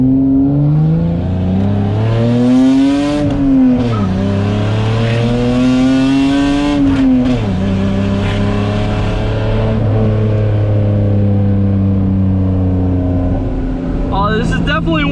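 Heard from inside the cabin, a 1987 BMW E30 325e accelerates hard through several gears, its engine note climbing steeply and dropping at each shift, loud and continuous.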